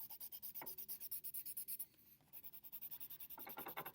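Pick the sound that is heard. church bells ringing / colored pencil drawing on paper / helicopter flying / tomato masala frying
colored pencil drawing on paper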